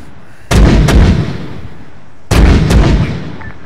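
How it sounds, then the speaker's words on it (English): Two heavy artillery blasts from the ARMA 3 military video game boom loudly, each with a sharp onset and a long rumbling tail, spaced a couple of seconds apart. "Fire artillery. Requesting support, grid"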